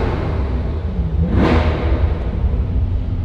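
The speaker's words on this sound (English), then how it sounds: "Must rev engines." A car engine revs hard inside a tunnel during a parade lap, a loud rumbling roar that swells to a sharp peak midway and then settles back into a droning hum echoing off the walls.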